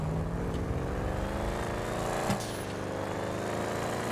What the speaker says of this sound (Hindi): गाइस, इस गाड़ी की थोड़ी साउंड सुनो, ऐसी खतरनाक वाली साउंड है।